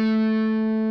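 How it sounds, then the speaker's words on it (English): Electric guitar playing a phrase from a solo, one sustained distorted note ringing steadily for about a second. "I'm going to play 7-5 on the third string and 7-5-7 on the fourth."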